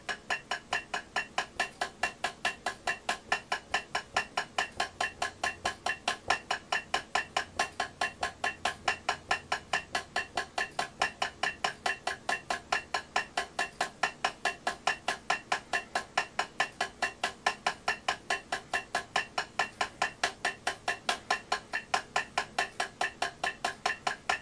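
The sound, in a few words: drum single-stroke warm-up exercise, eighth notes at 140 bpm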